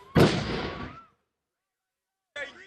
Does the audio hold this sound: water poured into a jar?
no